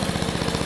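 A small all-original 1986 lawnmower engine with electric start runs steadily on a homemade pressure washer, a loud, close, rapid rhythmic putter with no talk.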